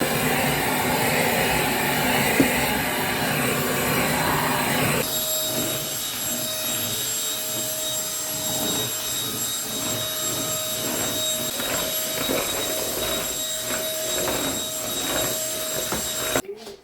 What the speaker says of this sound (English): Made my bed now to vacuum the floor.